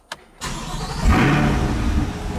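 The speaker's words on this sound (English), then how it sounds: "This is what we do to start it up." A 2020 C8 Corvette fired up with the push button: a click, a pause, then the engine catches with a sharp whir and rises into a deep, loud roar before settling into a steady idle.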